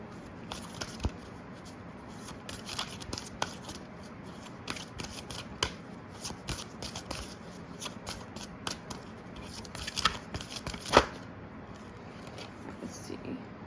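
Oracle cards shuffled close by in a quiet room, giving a steady run of soft riffling and sharp card flicks with a louder snap near the end.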